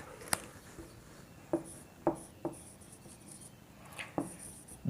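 Chalk or marker taps and short scratches sound on a board while maths is written, a handful of distinct strokes spread out over a faint steady background hiss.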